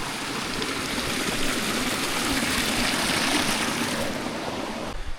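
Stream water rushes close by near a waterfall along Lake Iseo, a dense, steady wash of hiss and splash that stays loud and unbroken throughout.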